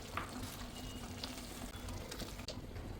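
Ground spinach paste stirred into frying masala for palak paneer, a quiet sizzle with soft scraping stirs and a few spoon taps against the pan, faint and close.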